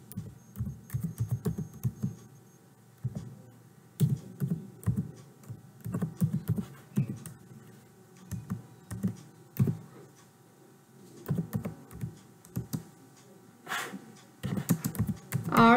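Code is typed on a computer keyboard in irregular bursts of quick, close clicking and tapping, broken by short pauses, with no voices over it.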